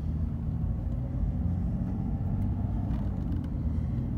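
A 2006 Jeep Liberty on the move, a continuous low engine and road rumble heard from inside the cabin, steady and even with no distinct shift jolts standing out.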